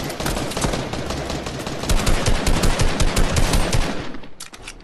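Rapid automatic gunfire in the Fortnite video game rattles in loud, continuous bursts for several seconds, close and dense, then tails off at the end.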